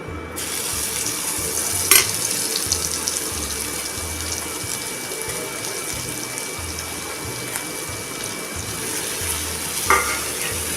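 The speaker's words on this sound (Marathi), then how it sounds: "हा जो आपला उरलेला मसाला आहे तो आता ह्यात आपण परतून घ्यायचा आहे" Leftover masala sautés in hot oil in a pan, a dense continuous sizzle with rhythmic stirring scrapes and two brief metallic clinks, close and steady, while stuffed bitter gourd is prepared.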